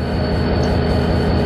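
An American-style freight train rolling in the Trainz railroad simulator game, a loud, steady mechanical rumble with rhythmic wheel pulsing and a high whine on top, no talk.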